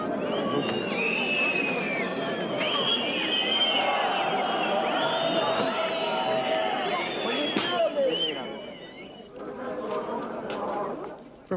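A large crowd in Red Square jeers and shouts during a guard-changing ceremony, a dense wash of many voices and whistles that thins out near the end.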